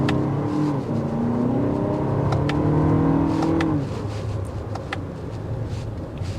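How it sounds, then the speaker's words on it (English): Turbocharged Lexus TX350 engine accelerating from inside the cabin, a rising tone climbing through a shift or two, then settling into a quieter cruise with road noise. "Kicks you back because it's a turbocharged engine."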